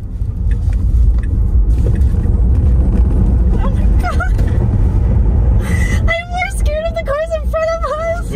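A Tesla Model S Plaid accelerates hard with a loud, steady low rumble of road and motor noise that fills the interior, and a voice starts talking near the end.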